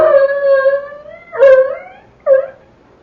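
A dog in a darkened wartime Chinese village, staged for a 1943 radio drama, gives long drawn howling whines followed by two shorter yelps, loud and close, with no talk over it.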